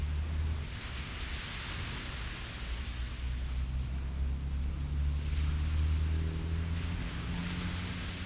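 Water at a beach at sunrise makes a steady, broad wash of surf that rolls on evenly throughout, with a low rumble underneath and no voices.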